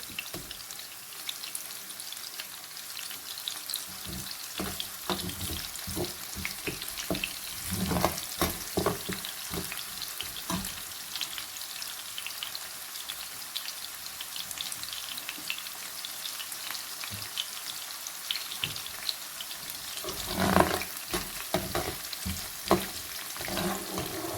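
Chicken manchurian ingredients sautéing in a pan, a constant bright frying crackle broken by repeated stirring clatters and scrapes, loudest around a burst of stirring late on, with no talk.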